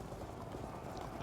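Horses of charging knights thunder in the Field of Glory II medieval strategy game, a dense, steady clatter of many hooves at moderate volume filling the whole moment without talk.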